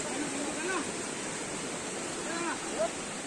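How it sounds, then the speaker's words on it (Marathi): River water rushes steadily in a village setting, a broad continuous wash that stays even throughout, with faint bird-like chirps or voices drifting over it now and then. "बघा नदीला पाणी आहे"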